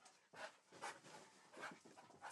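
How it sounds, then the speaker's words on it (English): Large dogs of about fifty pounds panting and whimpering indoors, with a few breathy bursts at moderate distance, fairly faint and without talk. "my dogs are coming down being loud"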